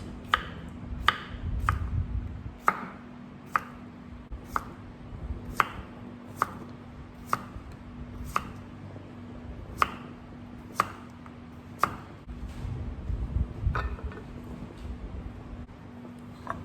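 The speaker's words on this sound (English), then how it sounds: "So I'm gonna slice some cucumbers." A knife slices cucumbers on a cutting board, about a dozen sharp, evenly spaced taps roughly one per second, close and clear over a faint steady hum, with no talking.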